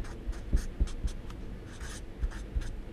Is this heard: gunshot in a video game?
no